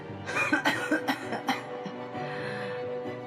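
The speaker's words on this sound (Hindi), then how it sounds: "तभी उसे बहुत जोर से खांसी आ गई।" A man coughs hard several times in a quick burst, then it trails off into a low steady background.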